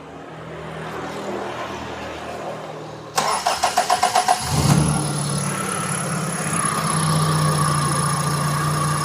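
A carbureted Toyota Corolla Twincam engine with heavy fuel consumption cranks in a quick run of starter pulses, catches, and settles into a steady close-up idle during carburetor tuning.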